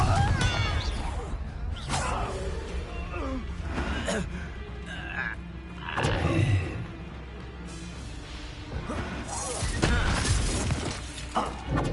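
Confringo fire spell blasts in Hogwarts Legacy combat, a steady stream of shattering bursts, whooshes and impacts over a dense game soundscape, with gasps and character voices woven through the fight.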